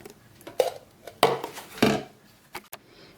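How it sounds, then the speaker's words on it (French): A lid is set back onto a blender jar holding vegan ice cream ingredients such as banana or avocado, heard as a few sharp plastic knocks and scrapes close by, with short quiet gaps between them. "Donc je remets le couvercle."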